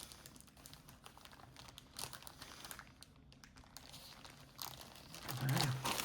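Paper and plastic wrapping on a gift parcel crinkles and tears close by, in scattered quiet bursts with a louder crunch near the end.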